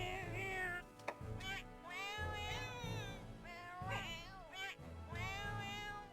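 Palico cat companion voice from the Monster Hunter video game, a series of close, clear, human-sounding meows and mews repeated across the span, with a steady low game background hum beneath.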